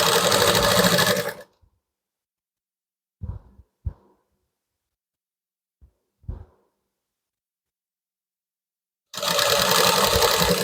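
A sewing machine stitches a blouse neck in two loud, steady runs at the start and end, separated by a long quiet stretch broken only by a few soft knocks of fabric handling.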